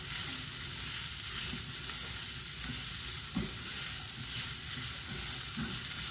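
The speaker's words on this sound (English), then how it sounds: "I'm just letting the onions cook down." Onions cook down in a hot pan with leftover steak, giving a steady close sizzle and crackle, with occasional soft stirring knocks and no talking.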